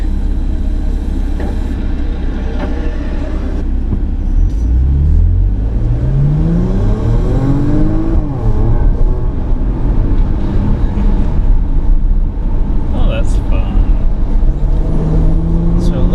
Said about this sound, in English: When you want to put it on wide open throttle, it does give you an opportunity to get a bit of a kick.